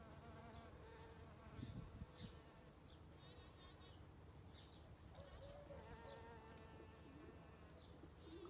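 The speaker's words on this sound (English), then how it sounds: "Here comes the bee." A bee buzzes close by among hanging purple flowers in a garden in May, a steady insect drone running throughout over faint outdoor background sound.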